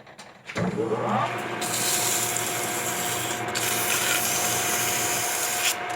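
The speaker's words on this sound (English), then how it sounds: "now I'm going to use 80 grit sandpaper and just polish it out a little bit" A metal blast nozzle for a live steam locomotive is worked by hand with 80 grit sandpaper, a close, steady abrasive rasping that starts abruptly and continues without pause.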